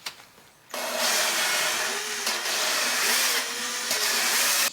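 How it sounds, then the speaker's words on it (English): An electric drill spinning an engine valve during lapping in a Mach 1 Mustang motor rebuild gives a steady, close whirring whine that starts abruptly and holds with slight wavering pitch, without speech. "And the drill's turning the valve."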